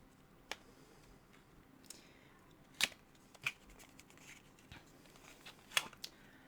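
Sharp crinkles and clicks come from a Pat McGrath Bridgerton highlighter's heavy outer packaging in Incandescent Gold being handled, with several crisp isolated snaps and rustles over a quiet background.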